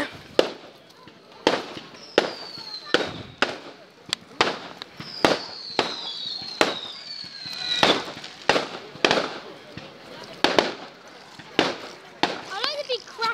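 Fireworks going off outdoors, a series of sharp bangs and crackling bursts in an irregular rhythm, some with whistling rising tails, while children's voices chatter faintly between the blasts.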